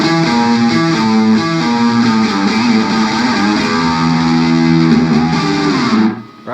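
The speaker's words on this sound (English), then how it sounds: "This is my main distortion sound," An electric guitar played through an LXK Hot Ice distortion pedal produces loud, saturated, sustained chords and a shifting riff, then cuts off abruptly near the end, with no voices.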